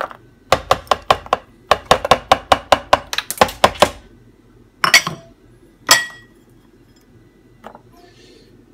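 Ice cubes and frozen pineapple, raspberries and blueberries dropped into a container, giving a rapid run of about a dozen hard clinking knocks, then a few scattered louder clatters and a last faint tap, close by with no talk.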